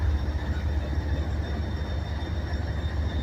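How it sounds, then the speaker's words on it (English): A freight locomotive rumbles past at CSX's Maxwell yard in Greenwood, South Carolina, with a continuous, loud, low-pitched diesel drone and a faint steady whine above it, unchanging throughout. "Another GPU equipped locomotive."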